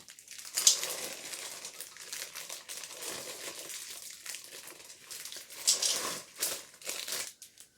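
Butterscotch chips poured from a crinkly plastic bag, giving a close, continuous crinkling and rustling with sharper crackles and pattering bursts as the chips spill out.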